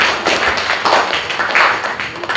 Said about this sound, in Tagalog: Sabay-sabay na palakpak sa ating Panginoon.